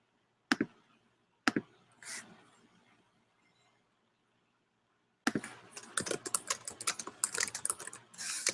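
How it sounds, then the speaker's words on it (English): Typing on a computer keyboard in a quiet room: a couple of isolated clicks, a pause, then a fast, close burst of keystrokes, fairly soft and with no talking. "I'm sure you hear me typing away."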